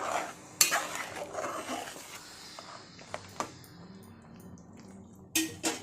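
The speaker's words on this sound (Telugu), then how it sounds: "వేసి శుభ్రంగా మొత్తం కూర అంతా కలిసేటట్టు తిప్పండి" A spoon stirs mutton curry in a metal pot, giving soft scraping and a few sharp clanks of utensil against the pot, quiet and irregular.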